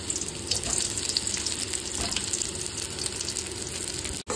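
Pointed gourd (potol) frying in oil, a steady broadband hiss and sizzle that holds at an even level throughout, close and continuous, with a brief dropout at the end and no talking.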